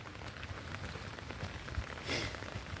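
Steady rain patters on a surface in a dense, continuous wash of drops, faint and without voices.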